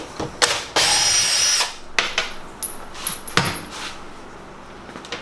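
A power drill with a square drive bit backs out two screws holding a base, one long whirring burst then shorter bursts and clicks, close and loud, with no talk.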